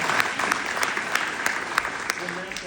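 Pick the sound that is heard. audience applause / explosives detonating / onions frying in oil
audience applause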